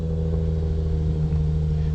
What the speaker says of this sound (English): I'm gonna roll down the window so you can hear the cold start.